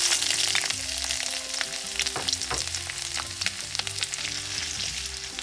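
Sliced ginger hits hot sesame oil that already holds popped mustard seeds and fenugreek, for a Kerala-style red lemon pickle. A steady close sizzle runs throughout, with sharp crackling pops from the seeds and no voices.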